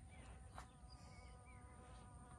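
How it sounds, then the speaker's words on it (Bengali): Steady, low buzzing of honeybees hovering close by while pollinating dragon fruit flowers in an orchard, a continuous drone with no voices. "এখন মৌমাছি পরাগায়ন হচ্ছে"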